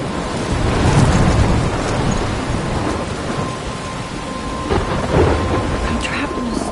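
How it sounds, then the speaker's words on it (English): A thunderstorm in the video game Life is Strange brings heavy, loud rain and deep rolling thunder that swells and fades in a continuous outdoor wash of noise. "I'm trapped in a storm?"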